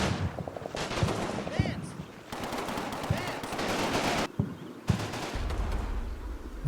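Sustained gunfire from the Combat Mission Fortress Italy war game, with dense bursts of machine-gun and rifle fire and sharp reports, loud and continuous with only brief lulls.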